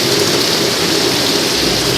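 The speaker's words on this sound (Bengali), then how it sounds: "আর অমনি ঝমঝমিয়ে বৃষ্টি পড়া আরম্ভ হয়ে গেছে। কি জোর বৃষ্টি পড়ছে" Heavy rain pours down steadily at a rural home, a dense, loud, even hiss of drops filling the whole moment with no voices.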